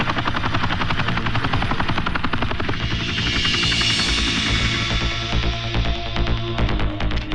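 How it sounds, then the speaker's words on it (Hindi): A helicopter lands in a film scene, its rotor throbbing loud and steady throughout with a rising whine of turbine noise, no talking over it. "मैंने देखा कि होटल के लॉन के सामने एक हेलीकॉप्टर उतर रहा है।"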